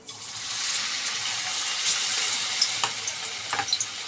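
Steady hiss of chicken pakoras frying in hot oil, with a few sharper crackles and pops toward the end; no talking.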